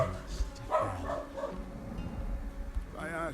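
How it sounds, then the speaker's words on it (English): Dog barking in short, yipping bursts, several close barks and whimpers spaced irregularly over a quiet background, with a voice talking faintly alongside. "Dog barking."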